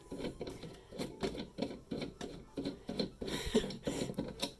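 A part being unscrewed while assembling a Boss drafting stool gives a rhythmic series of short, dry scraping and creaking turns, close and moderately quiet, repeating about every half second.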